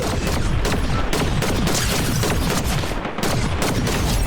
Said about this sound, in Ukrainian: Так, там стрілянина.